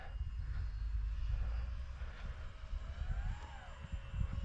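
A scratch-built model airplane climbs in flight, its small engine a steady buzzing drone under outdoor wind, with a faint whine rising and falling in pitch midway.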